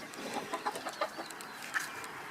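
Hens on a small chicken farm clucking softly in a dirty outdoor coop run, scattered short calls at moderate distance over steady background noise.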